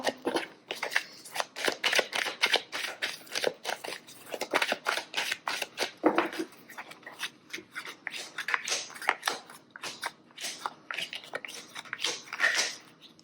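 A deck of Belline oracle cards is shuffled by hand at close range, with rapid, rhythmic riffling and rustling that keeps up steadily for over ten seconds.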